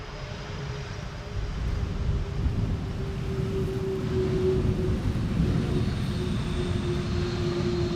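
An Airbus A330 landing on runway 18R at Amsterdam Schiphol gives a steady, broad jet roar with a faint whine, rising slightly after the first second and holding at a constant distance without talk.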